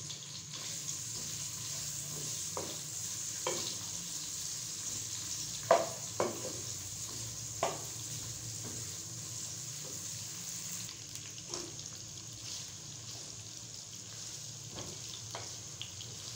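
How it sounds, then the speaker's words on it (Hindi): Chopped onion fries in a pan with cumin, giving a soft, steady sizzle with occasional faint scrapes and clinks of stirring, quiet and close, without talk. "अब हम प्याज को थोड़ा सा हल्का सा कहीं कहीं से ब्राउन कर लेंगे।"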